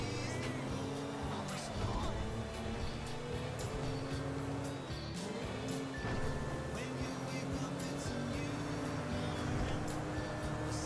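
Car driving in GTA V, its in-game engine droning steadily throughout with shifting tones and occasional tire noise, a continuous mid-level roar with game sounds layered over it.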